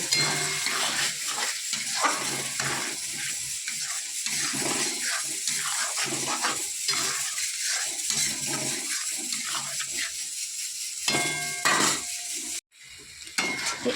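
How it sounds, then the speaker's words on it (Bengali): Spice paste with turmeric powder and salt being sautéed in a pan for jackfruit and prawn curry, a continuous sizzle with scraping stirring strokes, ending in a sudden cut and a brief quieter stretch. "বেশ কিছুক্ষণ আমি এই মশলাটা কষিয়ে নেব"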